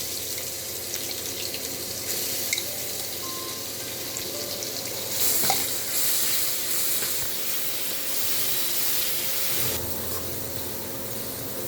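Garlic and chili paste goes into hot oil already crackling with mustard seeds and cumin for Vidarbha-style dahi kadhi, giving a steady, moderate broadband hiss with no one speaking.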